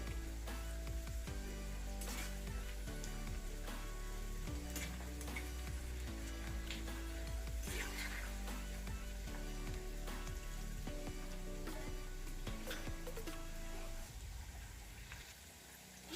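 Onion pakoda deep-frying in hot oil over a medium flame hiss with a continuous dense sizzle, crackling and bubbling steadily throughout before easing slightly near the end.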